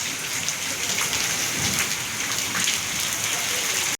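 Heavy rain pouring steadily outdoors during Navratri, a dense continuous hiss of drops on surfaces with faint low rumbles of thunder underneath, loud and close throughout.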